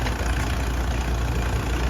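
Engine of a 1928 Buckeye field tile trencher at a flywheelers club show, running at a steady idle with a continuous low throb and even mechanical rumble, close and fairly loud, no talking.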